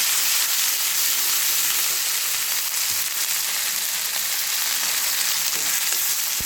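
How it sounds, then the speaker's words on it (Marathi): Gravy for a raw banana curry sizzles and fries in a pan, a loud, continuous crackling hiss with occasional stirring clinks, no voices. "आता हे चांगलं भाजून घेतो"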